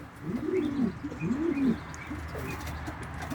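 Bango and Misiri pigeons coo in two rising-falling calls close by, each lasting about half a second, followed by a quieter stretch with faint chirps in the background.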